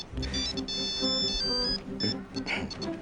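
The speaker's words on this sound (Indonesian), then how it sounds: "Ada telepon." A telephone ringtone plays a repeating electronic melody, fairly close and steady, set in an Indonesian soap-opera scene with faint voices around it.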